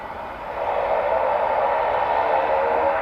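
A UPS Boeing 757 arriving at DFW Airport on a clear day gives a steady, broad jet roar that swells slightly early on and then holds at a constant, moderately distant level, with no talking.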